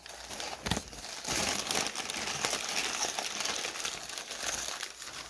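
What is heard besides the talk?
crinkling packing paper while unboxing, cat playing with it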